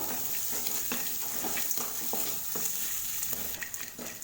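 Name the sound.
ginger sautéing with onions in a pan for garlic rice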